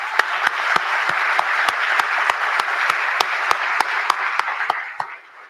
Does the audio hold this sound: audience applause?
yes